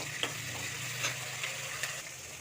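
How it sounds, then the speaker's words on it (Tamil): Mustard seeds and curry leaves fry in hot oil, giving a soft, steady sizzle with a few sharp pops and crackles scattered through it. "இப்போ கடுகு பொரிஞ்சிருச்சு. கருவேப்பிலை சேர்த்துக்கிறோம்."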